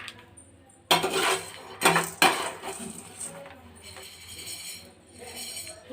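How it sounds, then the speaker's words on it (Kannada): Roasted gram (hurigadale) tipped into a bowl in a kitchen, a few sharp rattling clatters close by, then softer scattered clinks as the grains settle. "ಒಂದು ಬೌಲ್ಗೆ ಹಾಕೋತೀನಿ ನಾನು."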